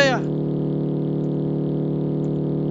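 A 1963 VW Beetle engine in BeamNG Drive, a steady loud buzzing drone held at constant pitch after a brief rising rev at the start, with no voices.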